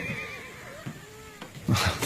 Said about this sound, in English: The horses are out of control.